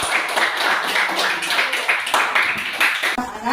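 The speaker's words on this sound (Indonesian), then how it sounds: "Kita beri tepuk tangan dulu untuk kelompok 1." Classroom students clap for a group after a lesson on prayer and remembrance, a brisk burst of close, uneven hand claps over about three seconds, ending abruptly.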